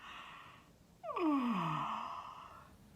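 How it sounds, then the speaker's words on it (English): A single long, drawn-out yawn during a children's online storytime, starting with a sharp intake and sliding downward before tailing off into a breathy exhale, fairly close and alone with no talk. "Can you yawn?"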